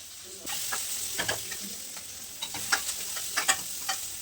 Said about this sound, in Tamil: வெங்காயம் பாருங்க ஃப்ரை ஆகும்.